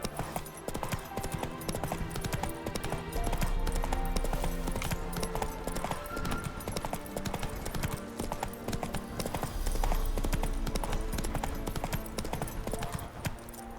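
Geralt's horse Roach gallops in The Witcher 3, hooves pounding in a fast, even rhythm for many seconds, loud and close over a busy game soundscape with music.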